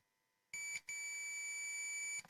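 Digital multimeter continuity beep while testing a coil: silence, then a sustained electronic tone that breaks off briefly, resumes and holds steadily before cutting out, with no talk.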